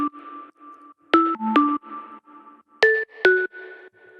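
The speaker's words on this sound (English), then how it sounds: "It's just 2 sine waves. One is an octave up, one is an octave down." A synth lead built from two sine waves, one an octave up and one an octave down, with distortion, chorus, compression and vintage reverb plays a clean melodic line of sustained notes with sharp plucked attacks, loud and alone.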